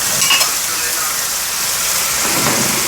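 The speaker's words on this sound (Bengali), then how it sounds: "ওই তেলেতেই পেঁয়াজ দেওয়া হয়েছে আর মশলা দেওয়া হয়েছে।" Onions and spices frying in hot oil for a restaurant-style biryani, a loud continuous sizzle with the occasional stir, heard up close.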